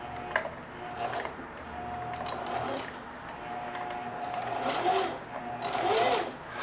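Sewing machine stitching through denim, its motor whirring steadily with a rapid ticking needle rhythm that swells toward the end, close and fairly loud throughout.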